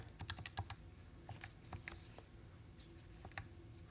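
Quiet, close keystrokes on a computer keyboard, irregular clusters of light clicks with short gaps, no talking over them.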